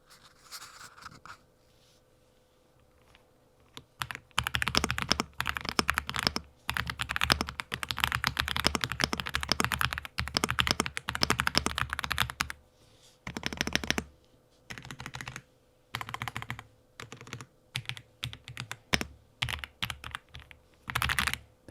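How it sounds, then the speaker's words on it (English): Mechanical keyboard fitted with linear switches typed on steadily and close up, a dense run of soft thuddy keystrokes that pauses briefly, then resumes in shorter bursts. "This is a linear switch, so you're not going to feel a tactile click, but there's a really satisfying thud"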